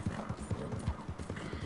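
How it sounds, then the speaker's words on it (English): Hooves of an Arabian horse clip-clop at a steady trot along a road in Red Dead Redemption 2, with regular rhythmic beats that sit close and clear over a low background bed. "This is an Arabian horse."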